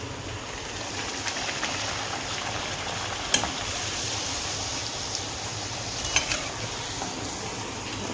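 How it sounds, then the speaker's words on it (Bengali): Pumpkin luchi deep-frying in hot oil, a dense, even hiss of bubbling sizzle running throughout, with a couple of faint clinks of a utensil, close by and no voices. "এইভাবে সব লুচিগুলো ভেজে নেব আমি"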